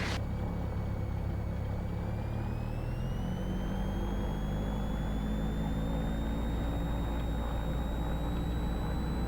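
Light aircraft engine running up at 1800 RPM before departure, a loud, steady close drone whose whine slowly rises in pitch as power comes up, with no talking.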